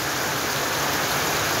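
Steady rain pours down on a rainy day in Jamaica, a dense, even hiss of drops hitting surfaces close by, continuous and fairly loud with no voices over it.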